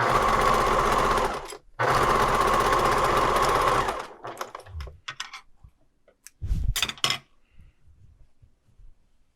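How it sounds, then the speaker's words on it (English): A sewing machine stitches fabric scraps in loud, fast continuous runs, stopping briefly, restarting, then giving way to short bursts and scattered clicks and handling noises. "Oops, I'm going to have to sew over a pin."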